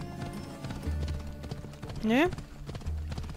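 Horse hooves clip-clop steadily in Assassin's Creed Odyssey, with a short whinny in the middle, while someone talks over the rhythmic hoofbeats.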